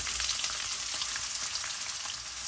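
Chopped onion frying in a pan of hot oil with fenugreek seeds for a fish curry, giving a steady, dense sizzle that stays loud and even throughout, with no talking.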